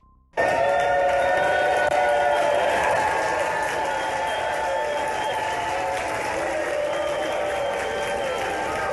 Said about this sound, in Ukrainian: Чуйте овації.